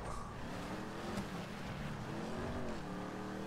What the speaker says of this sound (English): Me and Wolfie are driving the same cars then